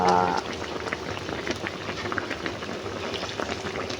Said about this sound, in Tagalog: Yan, ganda ng kulo guys.